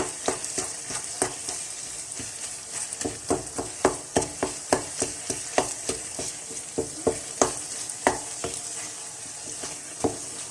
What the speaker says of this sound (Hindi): इसको काफ़ी देर हम लोग भूनेंगे ताकि इसका कच्चापन दूर हो जाए।